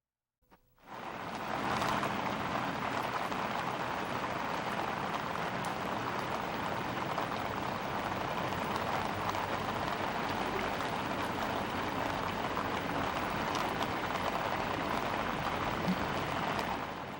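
Rain falls steadily on a rainy morning, a soft, even hiss that starts after a brief moment and stays at a constant low level throughout, with no voices.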